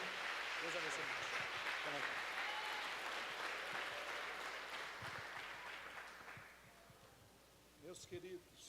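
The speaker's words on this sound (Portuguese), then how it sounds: "Vamos recebê-lo, aplaudindo a Jesus bem forte." A church congregation applauds during a worship service, a full wash of clapping that gradually fades and thins, then a voice speaks briefly near the end.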